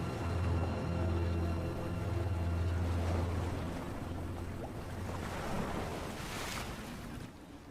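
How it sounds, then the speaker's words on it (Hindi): Tide waves roll in among tidal pools, a continuous washing surf with wind rumble, swelling and easing in steady rolling layers, no voices. "तालाबों के बीच की इस दुनिया में ये लहरें खाना और अफरा तफरी लेकर आ रही हैं।"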